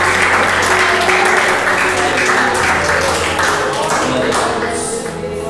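A church congregation clapping along during a Communion service, loud rhythmic handclaps over music and voices, fading slightly at the very end.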